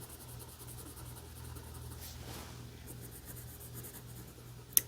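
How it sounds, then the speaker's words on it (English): Red colored pencil scratching across paper while coloring in a drawn tomato, a steady soft rasp of continuous strokes under a faint hum, with one sharp tap near the end. "Why don't we take our red color and just color in the tomato"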